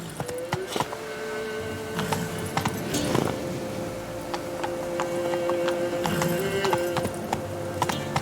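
Horse hooves clip-clop steadily at a gallop in The Witcher 3 video game, with an occasional whinny, close and continuous over a low ambient background.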